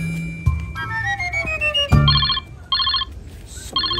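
A telephone rings with an incoming call, a bright electronic ringtone in short repeating bursts that follows thumps and a falling whistle-like tone, all close and clear without talk.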